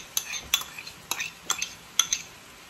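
A spoon knocks and scrapes against a pot as white onion is added and stirred for chili, five or six sharp clinks spaced about half a second apart over a faint background.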